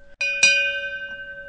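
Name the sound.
bell signaling end of segment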